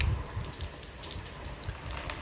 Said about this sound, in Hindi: देखो ये टपक टपक चालू है